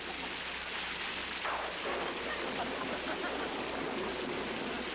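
Steady rain falls outdoors, a dense continuous hiss of drops that stays even and fairly loud throughout with no talk over it.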